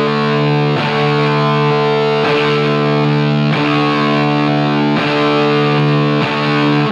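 Distorted electric guitar fitted with a DiMarzio Super Distortion bridge pickup and Seymour Duncan 59 neck pickup, heard on the neck and combined positions: loud, sustained chords restruck about every second and a half, with no talking.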